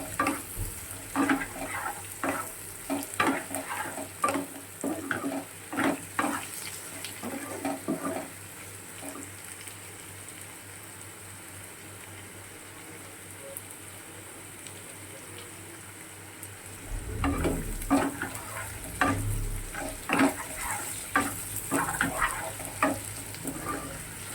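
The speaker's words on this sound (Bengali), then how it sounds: "আর আমি 2-3 মিনিটের মতন কষাবো" Spice masala paste being sautéed in a pan for a dudh potol dish, sizzling and spoon-stirring scrapes in bursts, a quieter stretch of low hiss in the middle, then stirring picks up again; no talking.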